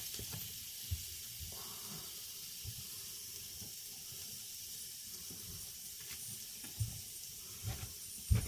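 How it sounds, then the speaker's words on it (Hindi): Steady hiss of steam escaping from a pressure cooker under faint kitchen clatter, continuous and moderately soft throughout, with occasional low knocks and no speech. "आपको प्रेशर कुकर की थोड़ी सी हल्की सी आवाज़ आ रही होगी"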